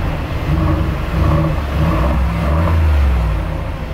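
An expensive car's engine runs at a steady, loud, close idle with a low rumbling drone and slight swells in revs, with no talking over it.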